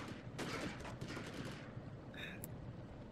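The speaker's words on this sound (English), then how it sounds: "You can already hear the gunfire outside." Distant gunfire in the video game Hitman: Contracts crackles in rapid bursts, faint and muffled, with a brief electronic tone near the end.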